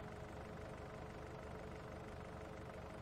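Kubota tractor engine in Farming Simulator drones steadily while batwing mowing, a faint continuous hum with no breaks or talk over it.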